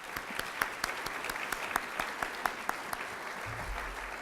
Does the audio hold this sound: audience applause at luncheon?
yes